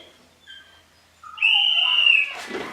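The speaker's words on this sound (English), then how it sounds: "I'm sorry if you can hear my puppy crying for me in the background." A puppy whines in the background, giving a couple of faint, thin, high-pitched cries followed by a louder, longer whimper.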